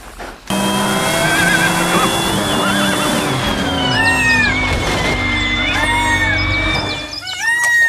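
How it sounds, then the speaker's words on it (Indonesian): Toy racing car being played with after cleaning, giving a continuous loud whirring motor-like drone with rising chirpy squeals and tones throughout, cutting off briefly near the end. "lihat teman-teman, ada mobil balap"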